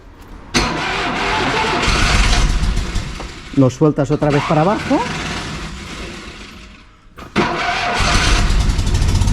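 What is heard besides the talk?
1969 Fiat 500 L engine starting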